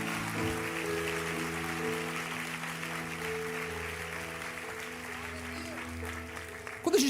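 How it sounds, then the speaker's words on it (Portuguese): A congregation at a church conference applauds with a steady wash of clapping that carries on at an even level, with a sustained musical backdrop underneath and a louder burst at the end. "Dá uma salva de palmas ao Senhor."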